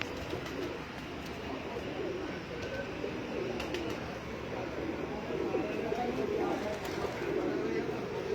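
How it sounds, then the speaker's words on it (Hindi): Soft cooing of a Kundan pigeon close by on a rooftop, repeated low murmurs over a steady background hum, with some faint voices around. "ये हमारा प्यारा कबूतर है जी"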